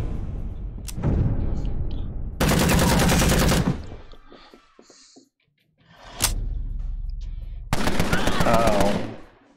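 Tommy guns firing in the video game Empire of Sin, loud close bursts of rapid automatic fire in several long rattling volleys separated by short pauses and single shots.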